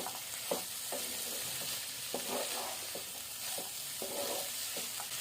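Spices and lentils being sautéed in a pan for ghugni, with a steady sizzle and repeated scraping stirs of a spoon at a regular rhythm, close and clear.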